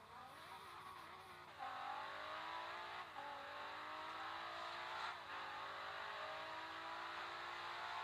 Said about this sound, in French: je vais vous laisser un peu profiter de ce magnifique bruit qu'elle a